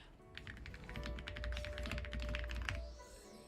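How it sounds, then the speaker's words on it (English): Close, quiet rapid typing on a computer keyboard, a steady stream of light key clicks with no speech. "My keyboard is getting stuck on certain"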